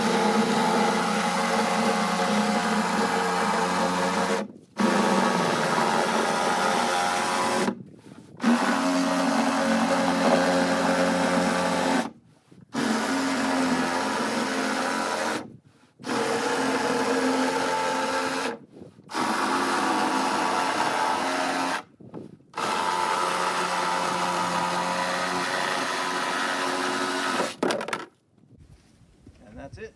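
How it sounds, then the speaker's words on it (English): A reciprocating saw cuts the top out of a 55-gallon plastic barrel, a steady loud buzzing rasp running in long bursts with several short pauses between strokes before stopping at the end. "So I'm going to sawzall the top of this barrel out."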